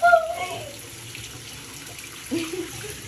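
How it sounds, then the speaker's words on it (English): Tap water runs over hair in a tub, a steady soft rush of flowing water with a brief voice at the start and another short sound near the end. "Y'all, when you put the water on her hair,"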